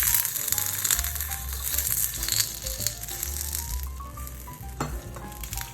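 A wiener fries in half a teaspoon of vegetable oil in a hot fry pan over medium heat, with steady sizzling and crackling and scattered sharper pops as it moves in the pan.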